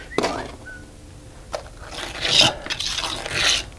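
A pointed margin trowel rasps and scrapes across stucco on a concrete foundation, with a short stroke early on and then longer, louder rubbing passes close by, and no talking.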